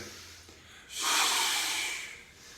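A strong, forceful exhale or snort during a bodyweight workout, rising sharply after a quiet stretch and lasting over a second before fading, close and breathy with no talk.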